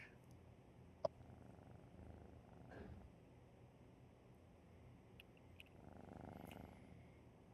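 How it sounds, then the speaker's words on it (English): A cat purrs close by in a steady low rumbling loop, quiet and continuous, with a couple of faint clicks and ticks around it. "Is that a cat? Sounds like one."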